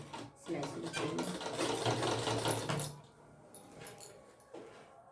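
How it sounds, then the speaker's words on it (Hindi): Sewing machine stitching a zip into the waist of a lehenga, running steadily for about three seconds at close range before stopping, followed by quieter handling of the fabric. "इसीलिए थोड़ा सा क्रॉस करने के बाद सिलाई शुरू करेंगे।"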